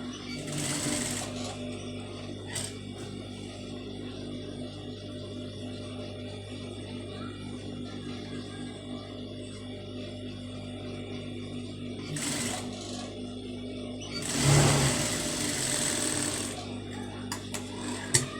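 A sewing machine runs steadily while stitching a saree border onto a plain blouse sleeve, a continuous mechanical hum with a few brief bursts and pauses. Faint talk is present in the background.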